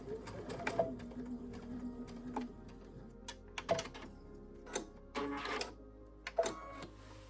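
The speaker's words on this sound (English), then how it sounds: "She's stitching right over it." A sewing machine stitches across the opening of a zipper pouch in short bursts of rapid clatter, separated by brief pauses and small clicks, close and fairly quiet.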